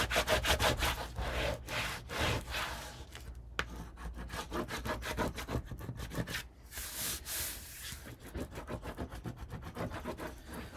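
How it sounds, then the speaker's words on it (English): A bone folder burnishes paper for a Halloween countdown calendar, making close, rhythmic rubbing strokes that repeat steadily back and forth, with no voice. "find where the two pieces meet and burnish with this rounded edge of my bone folder"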